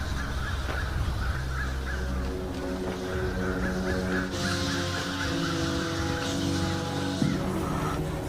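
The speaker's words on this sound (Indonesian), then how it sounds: "Namun tiba-tiba burung-burung berterbangan" Crows caw repeatedly amid flapping as birds suddenly take flight in a tense dramatic film scene, harsh calls layered over a dense, constant background of sound.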